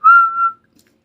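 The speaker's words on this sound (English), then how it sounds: "if I try to whistle" A single person whistles through pursed lips, one steady mid-pitched note lasting about half a second with a slight dip in the middle, then silence; loud and close, with no talking.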